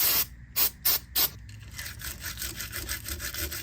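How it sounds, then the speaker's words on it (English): Electronic cleaner sprayed onto the pickups of a 1971 Fender Precision Bass, three short close hissing spray bursts followed by a steadier rubbing and scrubbing sound. "So I'm just gonna put some electronic cleaner on there and scrub them a bit."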